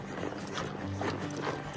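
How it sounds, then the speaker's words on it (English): Horses walk along a trail near Ten Sleep, Wyoming, their hooves clip-clopping in a soft, uneven rhythm close by under faint background noise. "I really enjoy riding out like this."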